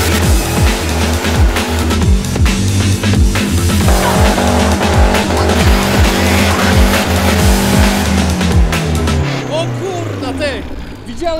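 Mercedes fitted with a truck engine doing a burnout, a loud revving engine with rhythmic pulses and squealing tires that fade out near the end, with people talking over it.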